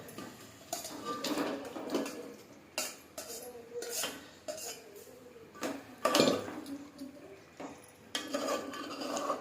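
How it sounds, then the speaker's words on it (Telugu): Chicken pieces are stirred into masala in a pot, with irregular metallic clanks and scrapes of a spoon against the vessel, close and fairly quiet, no talk. "చికెన్ ముక్కలను వేసుకోవాలండి. ఇందులో వేసుకొని బాగా కలుపుకోవాలండి."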